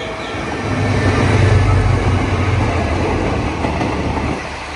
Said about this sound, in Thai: ขบวนรถเร็วที่172นะครับ